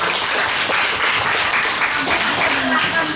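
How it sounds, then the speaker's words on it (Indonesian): Audience applause at a health promotion training event, a thick steady round of clapping filling the whole moment, with some crowd voices mixed in. "tepuk tangan untuk Om Nung."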